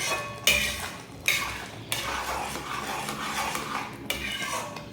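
Milk for milk cake stirred in a pan, repeated metal spoon scrapes and clinks against the pan at an uneven rhythm over a faint background hiss.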